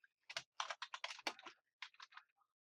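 Quick bursts of typing on a computer keyboard, a run of close, crisp key clicks in two clusters separated by a short pause, heard alone in a quiet room.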